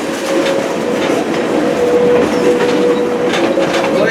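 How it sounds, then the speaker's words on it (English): A Greenfield Village train pulls into the Smith Creek depot, loud steady rumbling and rattling of railcars with clickety-clack wheels and a faint sustained squeal. "Please remain seated until the train completely stops."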